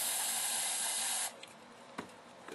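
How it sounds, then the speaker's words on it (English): Black paint sprays from a handheld spray tool in a hissing burst lasting about a second, then cuts off, leaving faint quiet with a couple of small clicks. "Now I'm just gonna spray some black here."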